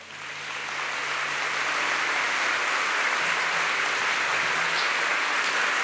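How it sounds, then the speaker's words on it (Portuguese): A church congregation applauding during a talk on Eucharistic faith, the clapping swelling in over the first second and then holding as a dense, even wash, with a faint low hum beneath. "Vamos aplaudir o Senhor?"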